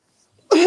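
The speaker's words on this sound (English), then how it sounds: "Excuse me, coughing." A single short, harsh cough bursts out close to the microphone after a moment of near silence, ending the clip.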